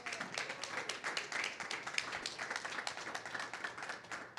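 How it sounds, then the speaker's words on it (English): A crowd applauds steadily, many hands clapping in a dense, even patter that is fairly faint and distant. "Please give him a round of applause."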